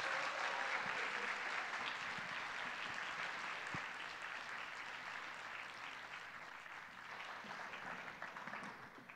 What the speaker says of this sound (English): And again, another round of applause for everybody.